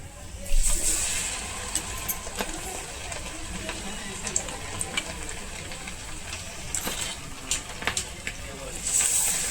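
Chicken lollipops deep fry in hot oil with a continuous bubbling sizzle and scattered crackles throughout, while a person talks over it.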